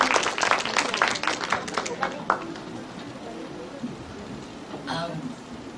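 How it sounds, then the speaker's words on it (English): An audience applauds at a talk to welcome a speaker, a dense clatter of clapping that is loudest at first and thins out over several seconds, followed by a quieter stretch with a voice. "Let us give a round of applause for Dr."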